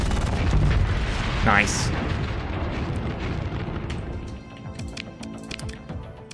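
Spaceship weapons fire and explosions in the Starsector video game roll out as a loud, dense rumble of booms and bursts with a rising whoosh, easing off toward the end, while someone speaks briefly over it.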